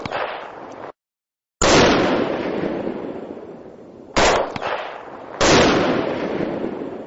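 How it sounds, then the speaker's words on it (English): Rifle gunfire aimed at wild hogs through thermal scopes, heard as loud, sharp blasts with long ringing decay, one shot, a brief gap, then several more shots in quick succession, with no talking. "they open fire on the enemy."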